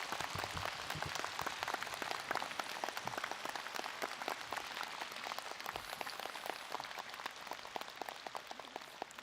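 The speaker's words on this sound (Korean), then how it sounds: "큰 박수로 맞이하겠습니다." Applause at a Korean Buddhist meditation leaders' association ceremony for world peace near the DMZ, as a monk is welcomed to the podium: steady, fairly faint crowd clapping throughout, dense and hissy with no distinct voices.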